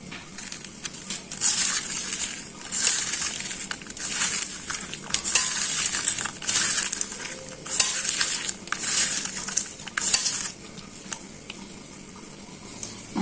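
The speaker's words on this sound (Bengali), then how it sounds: "আর পেঁয়াজটাকে আগে কষলাই আনি" Sliced onions are sautéed in a pan for a Bengali mola fish chorchori, with rhythmic stirring scrapes and a soft sizzle recurring every second or so, close and clear with no talk.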